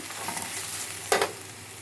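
Pieces frying in ghee give a soft, steady sizzle with light stirring, then one brief louder scrape or clatter near the end; nearby and moderately quiet, no talking.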